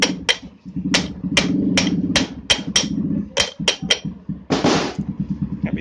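Repeated sharp hammer strikes driving a bearing into place on an exhaust motor during a bearing change, loud metallic knocks in an uneven rhythm over a low background hum, with a brief hissy scrape near the end.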